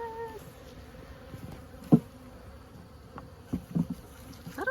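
Honeybees buzz faintly around an open hive during an evening inspection at a farm, a low, thin hum with a few louder bee passes close to the microphone.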